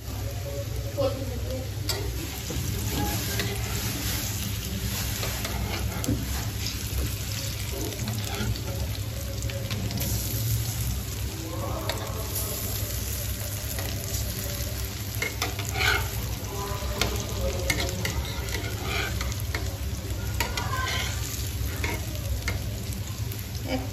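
Beef tikia sizzling and frying in a pan, a steady crackling sizzle with occasional stirring and clinks, close by, with voices talking faintly underneath.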